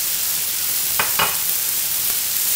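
Chopped tomatoes fry in a pan with a constant loud sizzling hiss, broken by two or three short scraping stirs.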